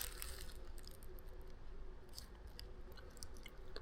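Someone chewing a bite of almond-filled cookie close to the microphone, soft repeated crunchy munching with small crisp clicks, quiet and steady with no talking.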